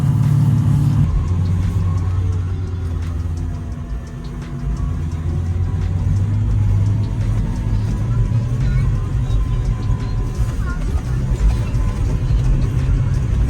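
A 4x4 engine in low gear drones and rumbles steadily up close, rising slightly as it labors up a sandy track, with a low continuous roar throughout.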